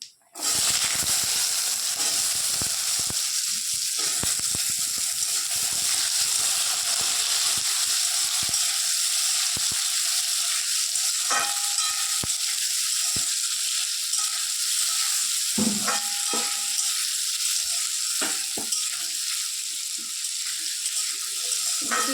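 Potatoes fry in hot oil with white and black cumin and a dried chili, giving a loud steady sizzle that runs throughout, with occasional scraping stirs and clinks.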